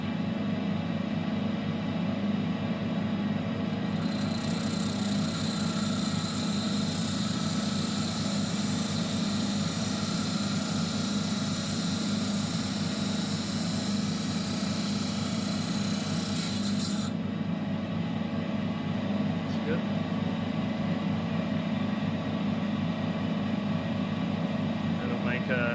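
A lapidary saw cuts through a piece of gamble opal rough, producing a constant grinding rasp over a low motor hum; a thin high whine joins partway through, then drops away while the saw keeps running.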